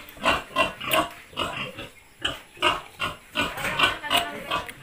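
Pregnant sows on a pig farm grunt and oink repeatedly in a steady rhythm of close, moderately loud snorts, with some faint background noise.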